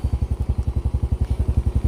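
A Yamaha Mio M3 scooter engine idles at around 1250 rpm, too low and prone to stalling, giving a steady fast chugging pulse of low thumps close by, even and uninterrupted.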